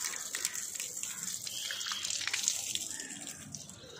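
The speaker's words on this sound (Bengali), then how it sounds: "পুরো হলুদ এই জল বেরোচ্ছে।" Iron-rich yellow water runs out steadily from a tap, a continuous splashing gush at close range with no talk over it.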